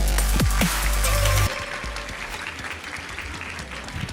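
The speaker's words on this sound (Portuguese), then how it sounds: "Uma salva de palmas." Applause from an audience on a conference arena stage welcoming a speaker, opening with loud close rumble and thumps, then continuing as moderate, steady clapping.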